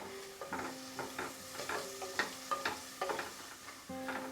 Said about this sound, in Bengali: গাজরটা খুব ভালো করে ফ্রাই করে নিলাম